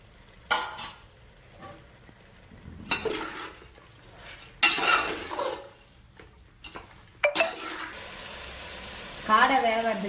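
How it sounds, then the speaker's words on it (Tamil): Pieces of quail are dropped into frying tomato and yogurt masala for biryani, giving a few short bursts of sizzling and stirring clatter between quiet gaps, faint and close. "3/4 கிலோ காடை சேர்த்துக்கலாம்."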